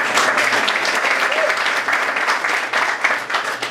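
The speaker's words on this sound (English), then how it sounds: "Give yourselves a round of applause." Volunteers in a Tarpon Springs theater audience give themselves a round of applause, loud and close, with a full sustained clapping that swells slightly and stays steady throughout.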